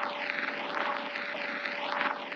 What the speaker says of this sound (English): so I replaced it with this cracked noise from Cymatics.